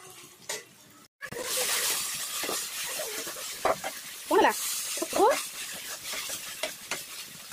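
Onions fry in a pan for ghugni, a steady sizzle with occasional stirring scrapes and clinks, close by, while a voice speaks over parts of it.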